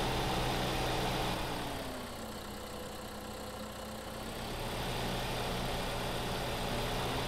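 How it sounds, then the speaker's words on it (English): A tractor engine idling in the Farming Simulator 15 game, a loud, steady low rumble that dips slightly in the middle before rising again, with no voices. "That is a loud tractor, that is."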